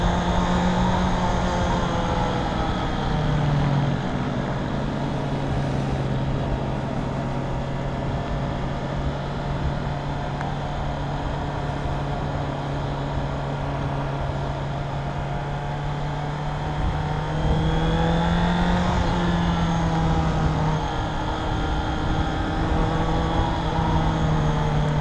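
A motorcycle engine drones steadily and fairly loud for the whole stretch, with its pitch rising and falling slightly and a couple of gentle revs near the end.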